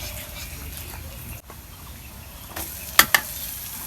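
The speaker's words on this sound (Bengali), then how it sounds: "তেলের মধ্যে ভুটকি দিয়ে বাইজে নেই তেল দিয়ে যে কষাইতেছি" Dried fish (shutki) fries in oil with a soft, continuous sizzle, broken near the end by a couple of sharp scraping clinks of stirring.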